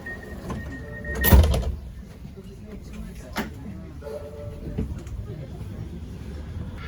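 Rumbling interior of a moving Manchester tram with steady rail noise, a sharp clunk early on, and faint background voices.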